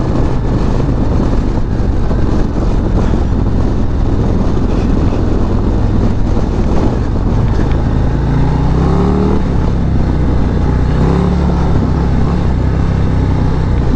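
A 2022 Harley-Davidson Street Glide ST cruising at about 30 mph in second gear, its engine a steady, loud low drone blended with wind rush, constant throughout with slight pitch shifts toward the end.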